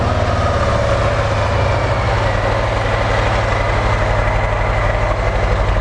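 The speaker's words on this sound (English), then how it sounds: "So that's the sound of the stock exhaust system that's running." A stock exhaust on a 2018 Harley-Davidson Softail Heritage Classic idles steadily at tick over, a loud, close, continuous low-pitched rumble with an even rhythmic throb and no voices.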